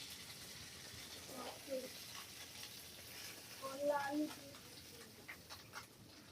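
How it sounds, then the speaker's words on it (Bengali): Fish frying in a pan in a home kitchen, a low steady sizzle running throughout with faint clinks, and a couple of brief louder bursts. "একটু মাছ ভাজা চলছে"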